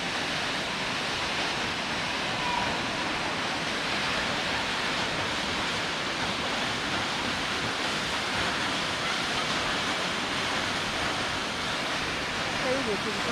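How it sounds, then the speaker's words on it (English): Kaaterskill Falls, where the water splits into two drops and strikes rock, gives off a steady broadband rush, loud and close, unbroken from start to finish. "it's almost like it's two waterfalls in one"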